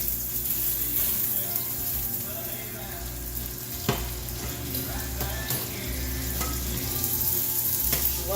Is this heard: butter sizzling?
yes